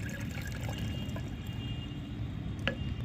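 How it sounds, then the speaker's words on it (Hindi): Homemade liquid tea-leaf fertilizer strained into plain water, a soft continuous pour with small drips and a brief splash near the end, quiet and close with no talk. "मैंने ये सादा पानी ले लिया है और इसमें ही इस फर्टिलाइज़र को छान लेते हैं।"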